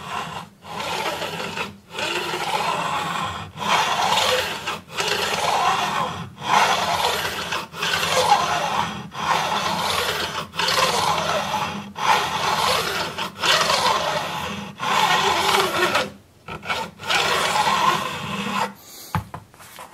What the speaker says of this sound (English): Alright, I do a first pass going in both directions, and then I go in one direction only.